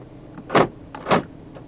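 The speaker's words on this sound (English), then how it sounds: "Central locking." Central locking on a 2009 Mercedes-Benz C 200 Kompressor Elegance actuating inside the cabin: two distinct mechanical clunks about half a second apart, fairly close and clear, with faint softer clicks around them and no talking.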